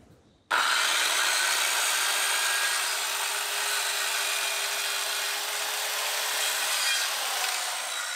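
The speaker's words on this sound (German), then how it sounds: "Um das letzte Stück dann noch zu schneiden." A wooden board is sawn through to cut out a last small piece while building wooden windows and doors, a steady continuous rasping of the blade that starts abruptly and runs loud and close without pause.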